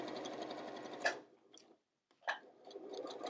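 Sewing machine stitching fabric along curves, its steady rapid whir running in bursts, stopping briefly near the middle for a short silent pause, then starting up again close and clear with no voices.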